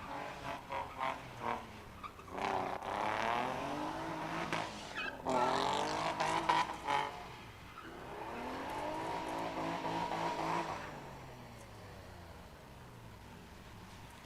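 A car skids through high-speed spin-outs at a Sunday test and tune session, tires squealing in long wavering screeches over engine revs, heard from a distance, with a quieter stretch of running before and after.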